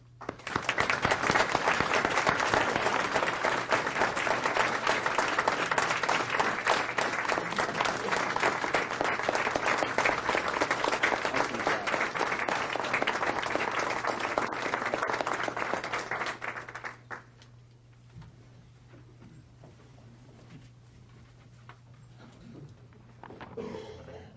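An audience at a village board meeting applauds award recipients, with dense, steady clapping that fills the room for about sixteen seconds before cutting off into a quiet hall.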